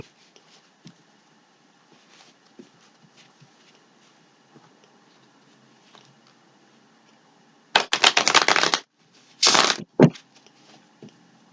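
Quiet rustling leads into several loud, dense bursts of riffling tarot cards, like a deck being shuffled up close, with a final sharp flurry near the end.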